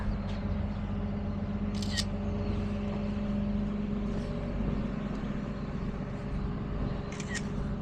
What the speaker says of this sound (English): I'm just gonna take some pictures